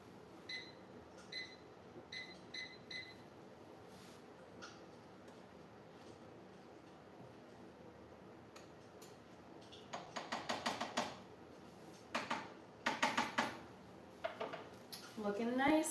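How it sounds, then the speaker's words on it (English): Cabbage and kale are stirred in a pot of boiling water, a spoon knocking and scraping against the pot in bursts of clinks that grow busier toward the end, over a quiet kitchen background. "And let me just give them a stir now."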